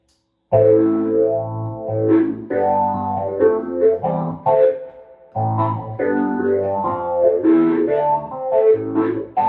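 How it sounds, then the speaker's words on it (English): Vintage Fender Rhodes Mark I stage piano played through a phaser pedal: warm electric piano chords and melody lines with a swirling, sweeping tone, close and moderately loud, pausing briefly midway before resuming. "what I've done now is I've put a phaser pedal onto the Fender Rhodes"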